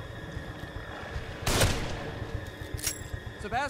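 Gunfire in the survival horror video game The Evil Within: a sharp shot, then a fainter second one, over a low rumbling game background with brief talk.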